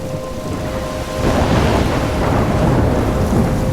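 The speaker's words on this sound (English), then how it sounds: "I'm trapped in a storm?" Thunderstorm in the video game Life Is Strange: steady heavy rain that swells into a loud, rolling rumble of thunder about a second in, then keeps pouring with no voices.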